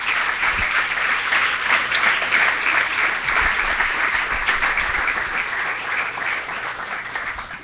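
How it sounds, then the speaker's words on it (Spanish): A Christian church congregation applauds for the Lord, a dense, steady wash of many hands clapping together at even loudness for several seconds before beginning to fade at the end. "Le damos palmas al Señor"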